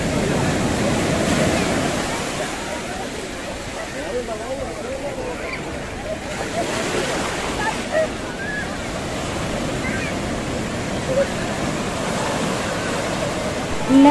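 Ocean waves roll and break continuously on Puri beach, a loud, steady wash of surf with wind buffeting the microphone throughout.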